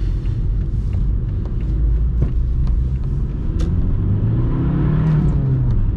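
Audi A3 1.9 TDI diesel with 155 hp accelerating hard in second gear on a wet city road, wheels spinning; a steady low engine rumble fills the whole span with a rising tone near the end, no talk.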